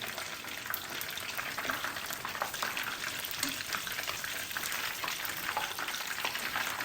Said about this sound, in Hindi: को भी हम तकरीबन 4 से 5 मिनट के लिए मीडियम फ्लेम पे अच्छे से फ्राई करेंगे